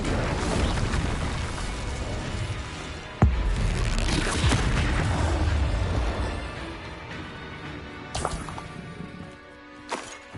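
An Incendio fire spell cast in the Hogwarts Legacy video game, a roaring blast with a sharp crack at its start, then sustained rumbling combat noise and a few later impact thumps.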